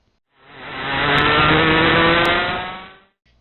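A racing kart engine at full throttle through a corner at Badger Kart Club's national circuit in Dousman, Wisconsin, swelling in as it nears, holding a loud steady drone, then cutting away abruptly.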